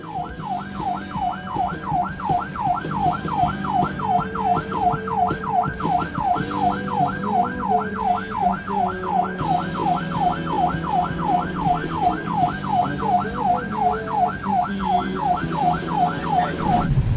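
An ambulance siren wails continuously in a fast, regular rising-and-falling cycle, loud and close, over low traffic rumble.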